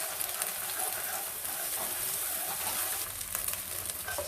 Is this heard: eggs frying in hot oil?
yes